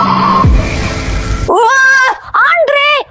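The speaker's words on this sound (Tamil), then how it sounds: "மிஸ்டர் பிளாக் சத்தம் எப்படின்னு கேட்கலாம்." Mr. Black's character sound from the Sprunki video game opens with a noisy rumble and a sliding, falling tone, then breaks into three wavering, voice-like cries that bend and dip. The cries are loud and close, with no words spoken.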